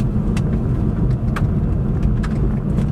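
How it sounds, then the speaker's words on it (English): A Jaguar X-Type driving at about 20 mph gives a steady low drivetrain resonance, a constant deep rumble under road and cabin noise with faint ticks. "it's like a resonance in the drivetrain"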